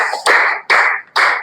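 Three short bursts of studio audience applause for a quiz-show contestant, each a loud, dense wash of clapping that stops abruptly, close and with no voices over it.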